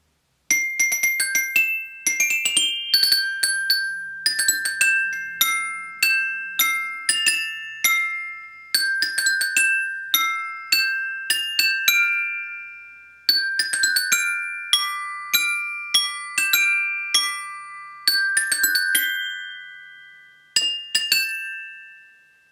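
A small metal mallet percussion melody instrument plays a bright melody of struck, bell-like notes in quick runs and short phrases, each ringing and decaying, clear and close with no talking.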